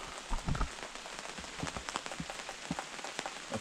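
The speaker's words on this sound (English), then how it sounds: "Obviously, you can see it's raining." Steady rain patters on a surface nearby, with scattered louder drops over a constant hiss.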